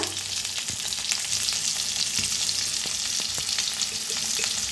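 Potatoes frying in a pan with salt, turmeric and red chilli powder for dum aloo, with a steady, dense sizzle and occasional stirring scrapes.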